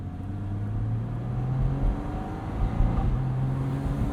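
Porsche 981 Boxster with its 2.7 flat-six engine, driving with a steady low hum that swells and eases as the revs change, heard from inside the car with no talk over it.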